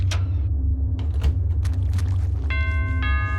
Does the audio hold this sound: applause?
no